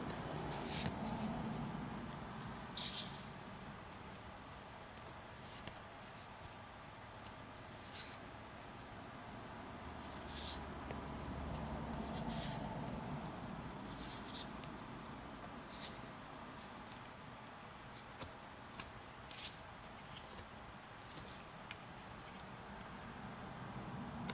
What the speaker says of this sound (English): just test out shuffling the cards a little bit and see if you like that sound